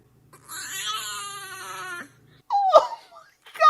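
A kitten gives a drawn-out, wavering high-pitched cry, followed by a couple of shorter squeaky mews, close and clear with no one talking over it.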